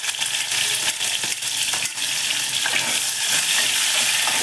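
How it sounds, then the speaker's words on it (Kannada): Mustard seeds, curry leaves and finely chopped onion fry in hot oil for a veg kurma, giving a loud, dense, continuous sizzle with scattered crackles and small clicks, close by and with no talking. "ಆ ಎಣ್ಣೆಗೆ ಸಾಸಿವೆ ಹಾಕ್ಕೋತಾ ಇದ್ದೀನಿ. ಹಾಗೆ ಕರಿಬೇವು ಸೊಪ್ಪು ಮತ್ತು ಸಣ್ಣ ಕಟ್ ಮಾಡ್ಕೊಂಡಿರೋಂಥ ಈರುಳ್ಳಿ."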